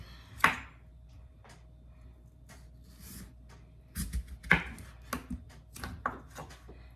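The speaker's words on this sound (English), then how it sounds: "I'm going to cut some slices of potato." A knife cutting slices of potato on a board, several soft scattered chopping thuds at an uneven pace, close and quiet with a faint steady background hum.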